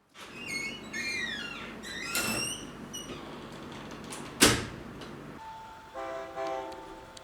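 A train at the Bang Sue railway junction in Bangkok, with squealing wheels and metallic screeches, a sharp horn blast, clanking cars and a sustained tonal horn or signal toward the end, moderately distant.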